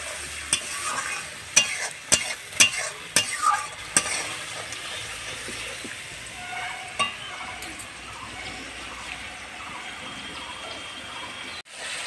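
Spice masala for chicken being stirred and fried in a pan with a little water added, a spoon scraping and knocking in quick repeated strokes at first, then a softer continuous sizzle, close up and without speech.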